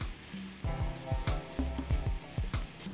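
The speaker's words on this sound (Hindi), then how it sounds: "इसके फ़ौरन बाद 3 टेबलस्पून सफ़ेद सिरके के फ्राइंग पैन में डाल दें।" White vinegar poured into a hot frying pan with water chestnuts sizzles in a steady, crackling hiss, broken by a few clinks and pops, close up and without speech.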